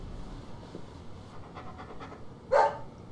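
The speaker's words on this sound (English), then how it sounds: "Doggo!" A dog pants quietly in Deadly Premonition, several soft rhythmic breaths over low ambience, ending with a single louder bark-like burst.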